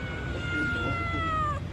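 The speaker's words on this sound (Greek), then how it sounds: "Μια γάτα." A cat meows in one drawn-out, rising-and-falling call, close and clear over steady outdoor background noise.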